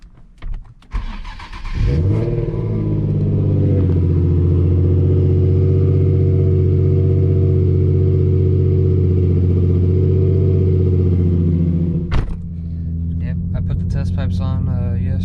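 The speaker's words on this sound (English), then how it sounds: "let me get that cold start for you" An Infiniti G35/G37 fired up from cold in a garage, running new exhaust pipes: starter crank, then the engine catches and settles into a loud, steady idle for about ten seconds before a short blip of clatter.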